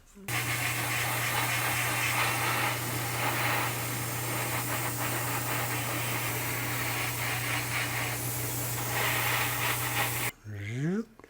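Steady airbrush spray hissing continuously for about ten seconds, a broad airy rush with a low hum underneath, then cutting off abruptly.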